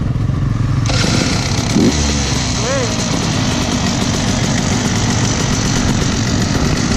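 Two-stroke snow bike engine on a Timbersled snow bike in Utah, running steadily and loud close by, with a brief rev; people talk over the continuous engine drone.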